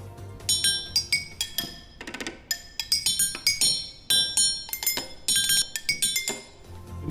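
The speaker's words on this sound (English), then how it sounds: "strikes each bar, the bar vibrates" Tuned percussion bars are struck one after another in quick, uneven bursts, each bright metallic note ringing briefly before the next hit, clear and close with no talk.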